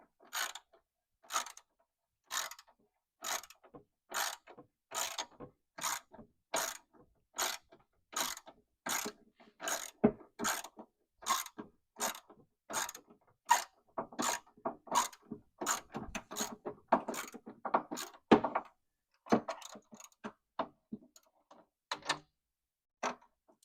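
A hand ratchet turns bolts on a 1966 Corvette brake booster, a long run of evenly spaced crisp clicking strokes, close and steady, growing denser and more irregular toward the end.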